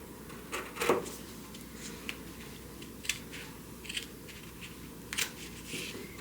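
Scissors cut through fabric scraps in a few short, crisp snips spaced irregularly, close and quiet against a soft background hum.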